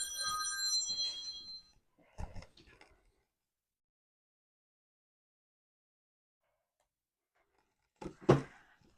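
A phone rings loudly with a bright electronic ringtone for about two seconds, then stops. Brief bursts of speech follow, a long quiet gap, and a short voice near the end.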